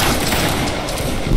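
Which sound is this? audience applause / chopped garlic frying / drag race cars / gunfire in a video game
gunfire in a video game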